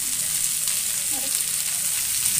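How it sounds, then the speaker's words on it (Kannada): Steady sizzle of oil frying for a bitter gourd curry, with faint scraping of a stirring spoon partway through and no voices, the hiss holding constant over a couple of seconds. "ಎಣ್ಣೆ ಒಂದು ಫ್ರೈ ಮಾಡ್ತಾ ಇದ್ದೀನಿ"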